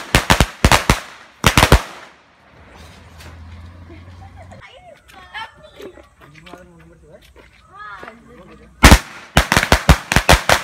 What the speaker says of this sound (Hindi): हम लोग फोड़ रहे बम का बाप